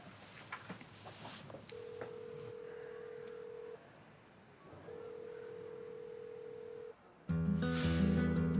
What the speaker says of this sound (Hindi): फोन करके देखती हूँ।